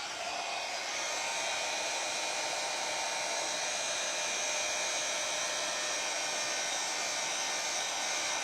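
A heat tool blows a constant, loud hot-air hiss for over eight seconds while drying decoupage work, with no pause and no talking.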